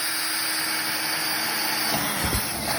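Power drill boring through an old 1980s fiberglass tractor hood, a steady high whine running throughout with a brief lower grinding burst near the end, close and alone without talk.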